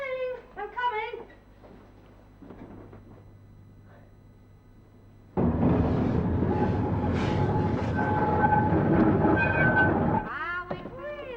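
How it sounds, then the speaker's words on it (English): A tram in an early twentieth-century street scene arrives with a loud, sudden rumble of wheels and rattling cars that holds for several seconds and then fades, with speech before and after it. "here's the tram"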